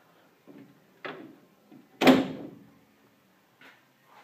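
Drawers of a Lista double bay steel toolbox, 56 inches wide, with full-length 54-inch drawers, slide and bump shut in a handful of short clunks, one louder rattling slam standing out among the quieter knocks.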